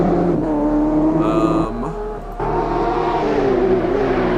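A BMW GTE race car in the Automobilista 2 sim racing game at Daytona drones loudly close by. It lifts off briefly in the middle, then climbs back up through the revs under sustained throttle.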